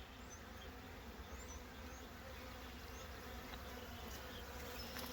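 Honey bees buzz steadily around a hive box as a shaken-off cluster climbs a stick into it, a soft continuous drone that stays low and even throughout.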